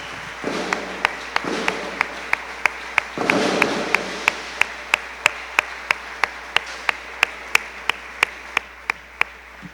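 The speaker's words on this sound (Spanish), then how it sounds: "Denle una ofrenda de palmas al Señor." A church congregation claps during a Tuesday evening service, with bursts of applause early on joined by a sharp, evenly spaced tapping beat that runs throughout, close and fairly loud.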